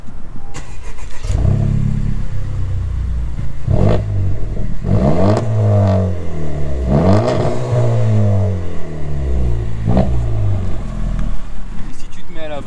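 A Honda Civic Type R FK2 engine, rev-limited to 4000 rpm, is blipped repeatedly, with loud rising revs that fall back to idle between bursts, under occasional talk.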